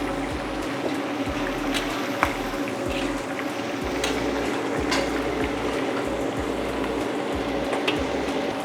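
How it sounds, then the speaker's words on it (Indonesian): Tempeh fried with onion and spices in a pan over medium heat gives a steady, close sizzle with scattered pops and faint clinks and no talk. "Ini tempenya kita goreng, nggak kita marinasi."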